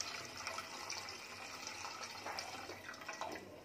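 Water poured into a cooking pan to make syrup for gulab jamun, a soft continuous splashing trickle at low level, fairly close, running steadily without speech.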